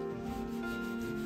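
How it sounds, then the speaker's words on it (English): A really wet rag rubs damp drywall mud off brick in a steady, continuous scrubbing swish, close and alone. "We take a really wet rag and just kind of clean off the brick"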